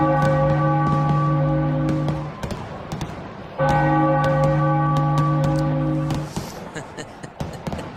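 A ballpark bell rings at a Philadelphia Phillies home game against the Washington Nationals, sounding two long, sustained, resonant peals with a short break between them, while crowd noise and commentary continue underneath.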